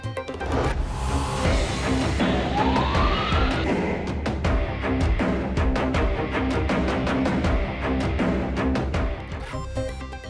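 A wailing emergency siren from an ambulance in Lahore, loud and continuous, with a rising sweep and steady pulsing bursts over dense traffic-like background noise.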